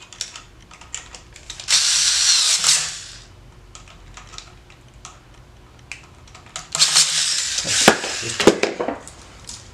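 A screwdriver tightens screws on an electrical outlet while it is being replaced. Two bursts of close, rapid scraping and ratcheting are heard, separated by quieter clicks and handling noise, and nobody speaks.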